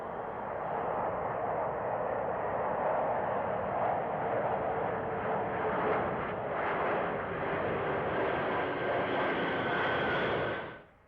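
An Antonov An-225 Mriya cargo plane doing a touch and go, a loud sustained roar of jet engines that swells and rumbles for several seconds, then cuts off abruptly at the end.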